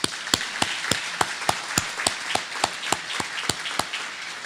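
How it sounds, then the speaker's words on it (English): Audience applauding doctors at a seminar, heard as sparse, distinct hand claps ringing out at an irregular pace over a soft wash of scattered clapping, fairly close and steady throughout. "I would like you all to give a round of applause to the doctors who took off their Saturday to come here to speak to you"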